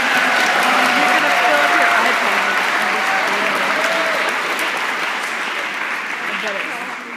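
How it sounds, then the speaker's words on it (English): Conference closing ceremony audience giving a loud, sustained round of applause as a speaker is invited onto the stage, dense clapping throughout that slowly tapers off, with some voices mixed in. "give him a massive round of applause"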